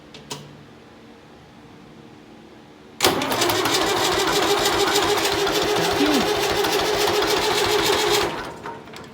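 A David Brown 990 diesel tractor engine with an injector pump problem, unbled injectors, cranks and suddenly catches, running loud and rough for about five seconds before dying away, with no speech.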